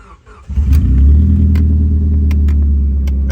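A 2001 Honda Civic engine, in a car being body-swapped into a 1962 Rambler American, cranks briefly and catches, then settles into a steady, loud low rumbling idle with a few faint clicks on top.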